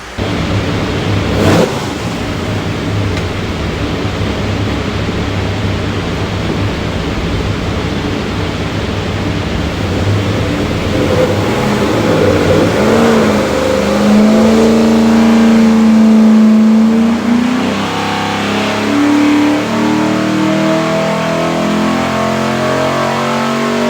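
A stack-injected 427 Ford V8 with Borla stacks and a Holley Terminator X runs on a dyno, a loud steady roar that climbs in pitch through a long pull and then eases off, with no talking.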